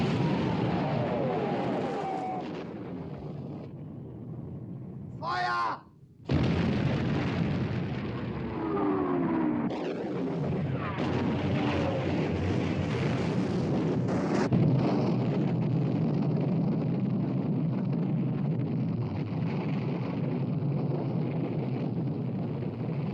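Naval guns firing in a 1960 war film about sinking the Bismarck, heavy booming blasts and a sustained roar of battle, with a brief near-silent gap partway through, a whistling swoop, and continuous rumbling noise.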